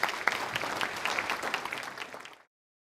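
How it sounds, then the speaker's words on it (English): Audience applause for contestants at a farm youth discussion contest, a brisk round of clapping that holds steady for about two seconds and then fades out abruptly. "give them another round of applause"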